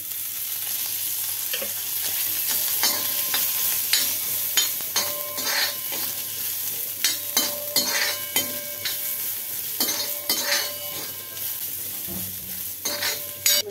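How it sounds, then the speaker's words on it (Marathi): Onion frying in oil in a pan while being browned, a continuous sizzle broken by frequent sharp scrapes and clinks of a spoon stirring against the pan, close and clear with no talking. "कांदा आपण भाजून घेऊया। कांदा जरा व्यवस्थित भाजला गेला पाहिजे, लालसर व्हायला पाहिजे।"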